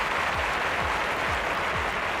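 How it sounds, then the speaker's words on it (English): A large stadium crowd cheers and applauds steadily before the 200 metres race in London 2012 Olympic athletics, a dense, even roar holding at constant loudness. "the crowd are doing their bits, plenty in to try and encourage success for this athlete"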